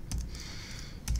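Quick keystrokes clatter on a computer keyboard while code is typed, a short burst near the start and another toward the end with steady faint room noise between, close and alone with no voices.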